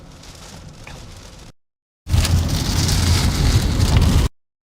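Heavy storm rain pours down during a tornado chase in Wisconsin, a dense steady hiss drumming on the vehicle, broken by a brief drop-out before it returns even louder and closer.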